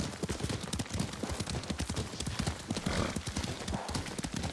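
Horse hooves clip-clop in a quick, steady rhythm as a horse is ridden through feudal Japan in Ghost of Tsushima, close and continuous with a brief whinny-like sound and faint talk underneath.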